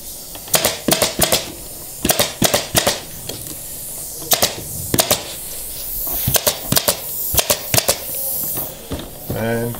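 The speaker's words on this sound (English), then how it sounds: "Now I'm ready to finish my stapling on my fold." Pneumatic staple gun fastening folded upholstery fabric on an 1860s chair seat, firing in quick bursts of sharp clacks with pauses between, close and loud over a faint hiss.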